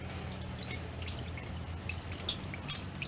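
Motor oil drains from a 2.4L Hyundai Sonata into a catch pan, a faint steady trickle with scattered soft drips over low background noise.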